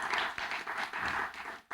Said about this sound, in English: So you can have a hand for